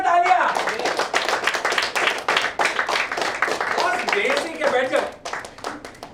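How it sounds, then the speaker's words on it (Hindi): Loud, rapid hand clapping from a small group during an Indian recruitment training session, dense and continuous at close range before fading out near the end. "जोरदार तालियां"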